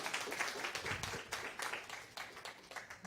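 Audience at a live church service claps, a scattered, moderately faint round of applause with uneven rhythm and no voices over it.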